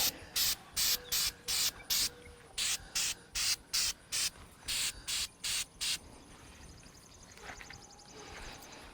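Rapid bursts of hissing spray paint onto a fishing rod tube, about fifteen short sprays in a steady rhythm, then quieter rattling and faint hiss at the end.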